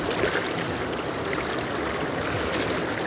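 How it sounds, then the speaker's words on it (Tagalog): Strong waves and rushing water churn around a boat where people are swimming, a loud, steady wash of splashing and surging water that fills the whole stretch with no pause. "Lakas ng alon!"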